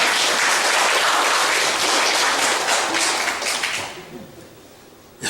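A congregation at a Korean church Sunday worship service applauds in a dense, even wash of many hands clapping. The applause stays strong for about three seconds, then fades away toward quiet.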